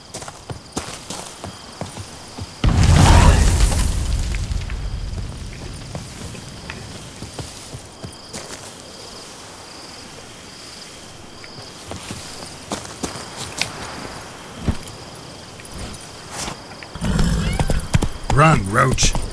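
Hooves of Roach, a horse in The Witcher 3, clatter in a steady galloping rhythm, rising loud near the start and again near the end, with quieter stretches of ambient game sound between.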